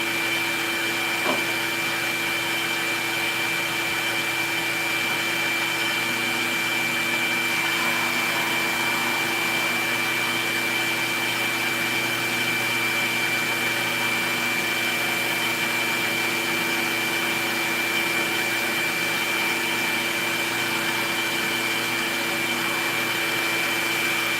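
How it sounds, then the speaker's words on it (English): Continuous abrasive rubbing hum of sanding a wooden box, steady and fairly loud throughout, with a faint electric whine. "So what I'm doing right now is I'm sanding the box."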